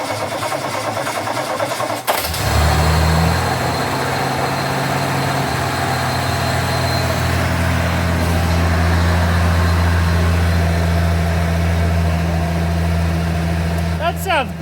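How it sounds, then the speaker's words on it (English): A rally car with carburettors cranks and catches after about two seconds, then settles into a loud, steady idle with a deep low rumble; voices are briefly heard. "Eventually we got the car starting really nicely"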